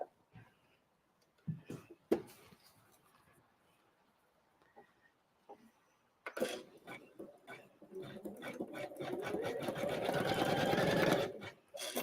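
Embroidery machine stitching a blanket stitch around a Christmas card design, starting after brief quiet handling noises, then a loud continuous rapid stitching patter that builds and holds close up.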